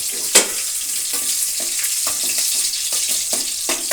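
Curry leaves crackle and sizzle in hot oil in a pan for a South Indian vangi bath gojju, with a sharp burst near the start and then steady frying hiss, broken by several stirring scrapes.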